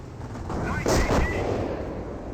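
A booby trap detonates in the Company of Heroes video game, with a sharp, loud blast followed by a brief rumbling burst over steady battle noise.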